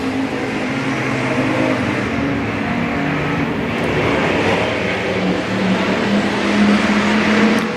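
Race cars roar steadily down the back straightaway on the final lap at Boothill Speedway, a loud continuous engine drone with rising and falling pitch from several cars, no talk.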